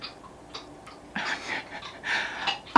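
A dog pants nearby in a quiet indoor room, a few short breathy bursts that come and go over a low background.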